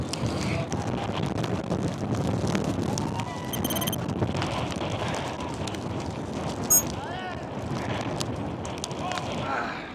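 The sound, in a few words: strong gusting wind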